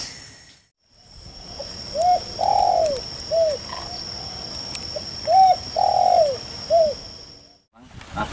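Zebra doves coo in repeated soft, rhythmic phrases on an outdoor hilltop during a squirrel hunt, pairs of short calls and longer rolling coos rising above a steady insect drone, fairly near and clear.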